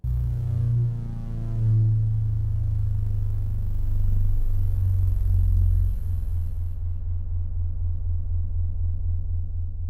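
A Behringer JN-80 synthesizer plays a deep, throbbing low-end drone, loud and sustained like an idling engine, pulsing steadily before thinning slightly and ringing on alone.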